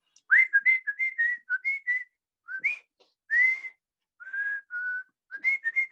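A person whistling in imitation of Mazatec whistled speech, a series of short sliding whistled notes in phrase-like bursts separated by brief pauses, clear and close with no talking.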